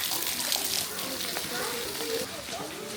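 Waterfall at the entrance of Mammoth Cave, surrounded by big mature trees, gives a steady broadband rush of falling water, moderately loud and continuous throughout, with a voice talking over it.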